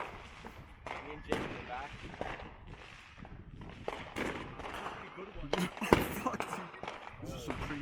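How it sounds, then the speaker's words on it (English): Fireworks exploding outdoors, a string of irregular bangs and crackles, some near and sharp, mixed with people talking throughout. "These are some pretty fireworks."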